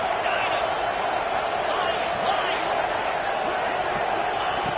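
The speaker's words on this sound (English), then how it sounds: "they'll have to conquer this crowd noise" Stadium crowd noise from a Madden football video game, a steady, dense roar of many voices with faint claps and whoops, holding constant at a moderate level without any clear peaks.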